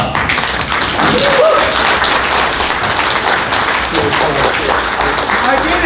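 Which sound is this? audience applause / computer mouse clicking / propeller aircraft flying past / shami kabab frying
audience applause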